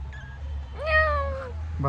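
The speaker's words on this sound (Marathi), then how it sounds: "मांजर तर लई क्यूट होती मित्रांनो" A cute cat gives one clear, drawn-out meow close by, then starts a second meow right at the end, over a low background hum.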